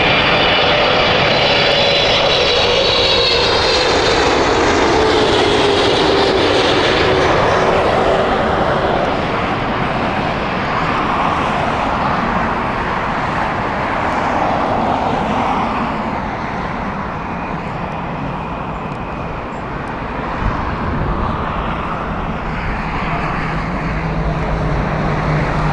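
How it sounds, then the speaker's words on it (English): A Boeing 777-300 airliner inbound to Heathrow passes close and loud, its jet engines giving a broad roar with a falling whine as it goes by, then a sustained rumble as it fades. "And beautiful 777 here, 300 inbound."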